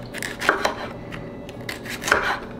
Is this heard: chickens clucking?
no